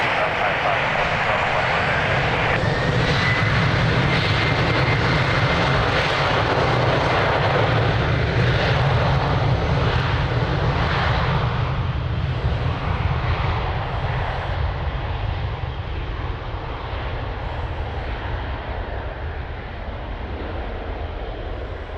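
Airplane taking off at Lisbon Airport, a loud sustained engine roar that holds steady and then slowly fades over about twenty seconds, with no talk over it.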